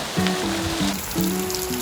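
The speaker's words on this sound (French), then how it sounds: "il commence à pleuvoir fort, on va plus rien entendre" Heavy rain begins to fall outdoors in a garden, a steady broadband hiss and patter of drops filling the scene, with a faint voice briefly audible over it.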